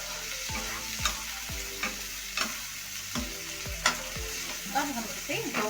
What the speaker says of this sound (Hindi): टमाटर को भूनेंगे।